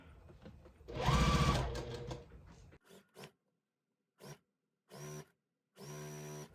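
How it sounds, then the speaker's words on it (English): A sewing machine stitching fabric for a jelly roll quilt whirs in short bursts, stopping and starting several times, close up, with a louder run at the start. "stick it over here on my sewing machine"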